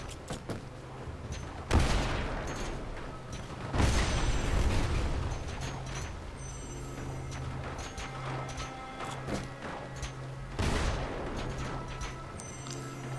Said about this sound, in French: Ces petites bombes sont bien pratiques.